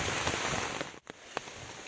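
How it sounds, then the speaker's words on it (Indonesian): Steady rain falls at dusk during a night wild boar hunt outdoors, a dense continuous hiss with a brief dip in the middle and a couple of sharper drop taps, no voices. "Kita tunggulah sampai hujan berhenti."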